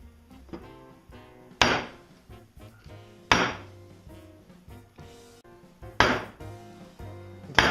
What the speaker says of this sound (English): Now I'll repeat this process using an appropriate sized chisel.